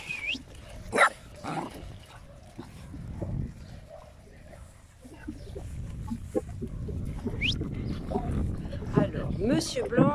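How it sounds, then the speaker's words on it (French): Guard dogs bark in sharp, scattered bursts with some yips and whimpers, near and fairly loud, while people talk underneath. "Des chiens de garde, hein,"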